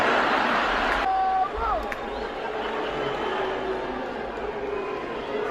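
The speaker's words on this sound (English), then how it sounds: "Those of you booing." Audience at a stand-up comedy show booing, a dense, steady wash of crowd noise filling the room, with a few scattered voices rising above it early on.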